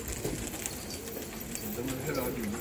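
Pigeons coo softly nearby in low, repeated rolling calls in Jabal al-Nasr, Jordan, with people talking over them.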